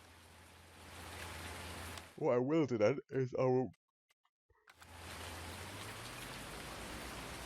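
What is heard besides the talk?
rain in a video game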